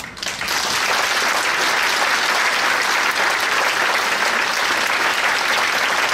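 An audience at a Thai boxing exhibition bursts into applause, a loud, dense wash of clapping that rises almost at once and holds steady throughout.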